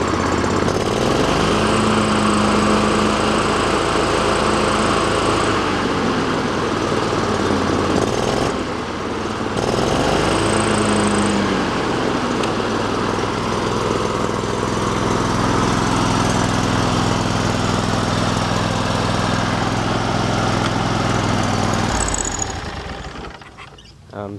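A Kawasaki FD611V 20-horsepower V-twin engine runs steadily under load, a loud continuous drone with a lower, labored tone, close by, fading out at the very end.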